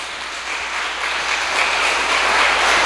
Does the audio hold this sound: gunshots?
no